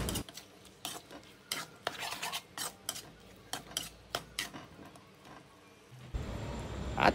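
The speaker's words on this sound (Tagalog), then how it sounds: "Haluin na maigi." Bicol Express being stirred in a pan, many quick scraping and clinking strokes of a utensil against the metal in an uneven rhythm, close, over a low sizzle that grows louder near the end.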